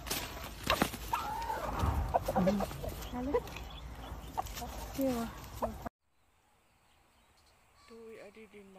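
Chickens cluck and call close by, busy over the first six seconds with voices talking alongside, then only faint bird sounds in a quieter stretch.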